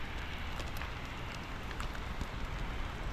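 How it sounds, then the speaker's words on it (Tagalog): Steady rain pours down in a continuous, even hiss with soft patter throughout, fairly close and with no voices. "Takas ng ulan, grabe."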